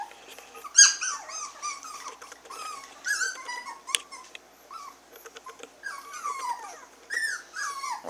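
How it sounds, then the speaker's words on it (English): Six-week-old Havanese puppies whimper, squeak and yip in a busy, overlapping chorus of high, nasal cries, close by and fairly loud, with no talking. "you guys are the calmest bunch of puppies"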